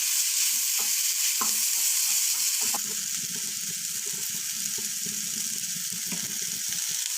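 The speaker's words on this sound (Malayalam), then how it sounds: "നന്നായി വഴറ്റിയെടുക്കണം ഇത് ഇതൊരു ബ്രൗൺ ഷെയ്ഡായി വരുന്നത് വരെ നമുക്കൊന്ന് നന്നായിട്ട് അങ്ങോട്ടും ഇങ്ങോട്ടും ഒന്ന് ഇളക്കിയൊക്കെ കൊടുക്കാം" Eggplant fry sautés in a pan under a loud, continuous sizzle, with stirring scrapes and taps repeating throughout.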